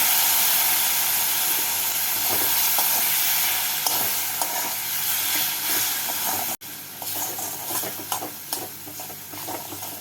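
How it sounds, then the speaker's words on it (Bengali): Spices cooking down with onion, tomato and water for an okra and potato curry, a loud continuous hissing sizzle with steam, broken by one abrupt cut and then spatula stirring and scraping, no speech. "এবার এর মধ্যে জল দিয়ে মশলাটাকে পেঁয়াজ আর টমেটোর সাথে কষিয়ে নেব"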